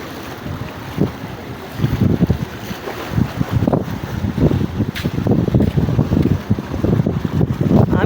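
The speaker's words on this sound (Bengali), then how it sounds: "ওই যে নৌকা চলে আসছে।" A boat approaches on the Singa river in Pakundia, Kishoreganj, with heavy wind buffeting the microphone, gusty roaring bursts, and low rumbling water and hull noise up close.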